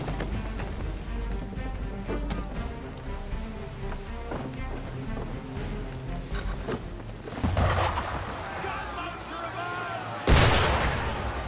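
Enemy ship firing cannons in Assassin's Creed III, heavy booming blasts over a dense rumbling battle bed, with a louder blast near the end.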